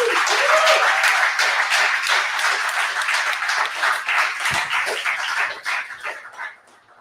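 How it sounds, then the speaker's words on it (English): Live audience applause at a games talk event in Glasgow, a dense, sustained crowd clapping that holds steady and then fades out toward the end. "Give him a big round of applause"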